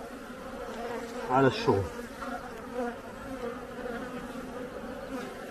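Honeybees during queen rearing buzz at a hive with a steady, near drone, a couple of sharper louder buzzes standing out early on, a brief voice heard once.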